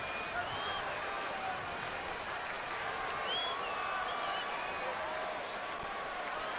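Sellout baseball crowd at a Giants vs. Astros game fills the ballpark with a broad, steady wash of cheering and clapping, distant and sustained, with faint whistles over the murmur.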